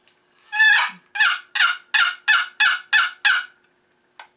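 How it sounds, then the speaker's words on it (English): A turkey box call rasps out a series of about eight sharp, yelping clucks in quick rhythm, close and loud, followed by one faint final note. "a quick run-through of a few box calls I happen to own"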